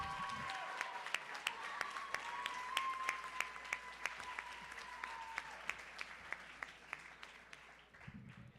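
Steady audience applause fills a closing ceremony award presentation for a Model United Nations conference, dense continuous clapping at moderate loudness with sharper individual claps standing out, fading near the end.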